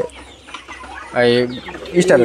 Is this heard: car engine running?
no